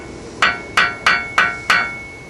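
Hammer striking the tie rod end on a BMW E36 front suspension, five sharp metallic blows in a steady rhythm, each ringing briefly, loud and close with no voices.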